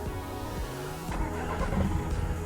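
A car pulls out on a Pembrokeshire road and its engine labours low and rough before stalling, heard close and steady with no talk over it.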